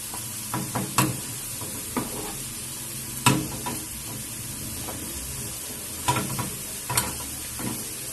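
Chopped onions fry in a pan with dried coriander, a soft sizzle beneath repeated scraping and clinking strokes of a spoon as they are stirred, close and fairly quiet.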